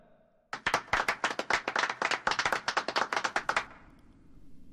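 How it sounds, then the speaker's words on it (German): A short burst of audience applause honours filmmaker Alain Tanner at an award presentation on stage. The clapping is dense and steady, starts abruptly, runs about three seconds and then stops. "Applaus für Alain Tanner!"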